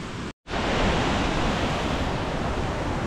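A waterfall roars steadily and loudly up close beside a mountain trail on Mount Aragats in Armenia, with one brief dropout near the start.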